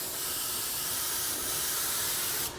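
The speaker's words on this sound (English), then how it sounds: "I like that pattern in such a small brush that you can hook up to the airbrush hose" An airbrush fitted with a fan cap sprays paint in one continuous, close airy hiss, steady and loud, cutting off abruptly near the end.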